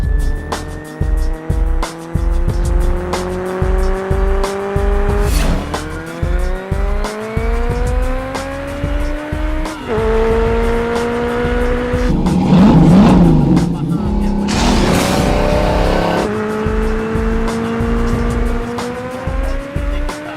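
Racing cars from the animated movie Cars roar past with rising engine revs, gear shifts and loud tire squeals and skids, building to a busy burst of race noise mid-way before the engines settle back into high-pitched acceleration.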